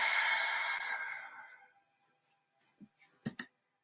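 A long, breathy exhale during a guided calming breathing exercise, loud at first and fading over about two seconds, then followed by a few faint soft clicks and rustles.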